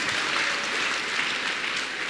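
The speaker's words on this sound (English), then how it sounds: "Clap your hands for Jesus." A church congregation claps during a healing service, a dense, even wash of many hands applauding at moderate distance, sustained for a couple of seconds without speech.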